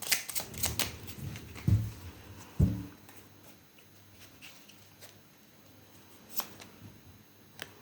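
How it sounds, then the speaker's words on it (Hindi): Tarot cards are shuffled in a few quick riffling bursts, with sharp flutters and soft taps at close range. The sounds are fairly quiet and separated by hushed pauses. "एक लास्ट शफल ले लेते हैं।"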